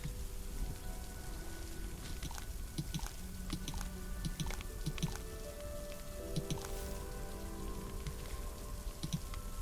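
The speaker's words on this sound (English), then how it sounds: "Man, it has been a while since it has rained." Steady rain in the video game Solarpunk patters and drips continuously on surfaces, with scattered droplet taps over a dense wash and soft tonal game sounds underneath, and no one talking.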